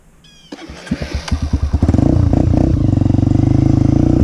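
A lawn mower engine is pulled repeatedly, sputtering in a quick series of coughing chugs. It then catches into a steady, loud, close idle for a couple of seconds, with no voices over it.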